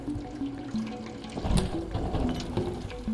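A cat laps water in the video game Stray, in the slums area, a soft wet splashing and trickling that runs steadily with small surges, close and moderately loud, with no talk.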